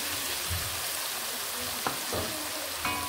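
Tomatoes fry in a pan with spices for a pabda fish curry, giving a steady, close sizzle broken by a couple of short clinks.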